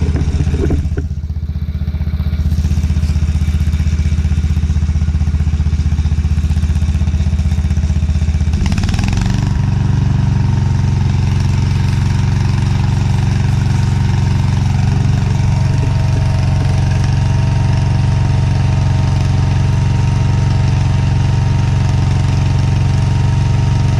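A Weldanpower engine-driven welder runs steadily at high idle, its loud, close exhaust drone and deep engine rumble holding constant throughout with a brief clatter as the throttle changes early on.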